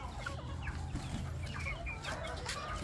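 Chickens squabble and cluck in a farm coop, dense overlapping clucks and short agitated squawks close by, with a low background hum throughout.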